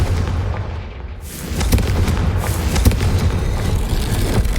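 A Confringo spell blast from Hogwarts Legacy erupts as a loud, booming burst with crackling impacts, followed by sustained rumbling noise throughout.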